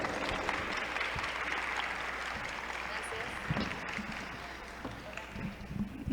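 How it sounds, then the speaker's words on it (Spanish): Dense, steady applause from a large audience gathered to hear a talk on fat phobia, a continuous wash of clapping with faint voices mixed in, holding at an even level throughout. "por favor les pido un fuerte aplauso para recibirla"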